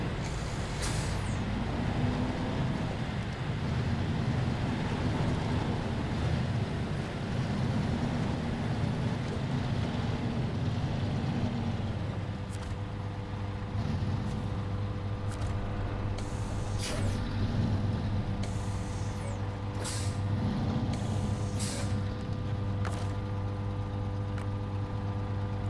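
A heavy oil tanker truck in the Snowrunner video game drives with a steady low diesel drone; the engine note shifts about halfway through and sharp clanks break in during the later part.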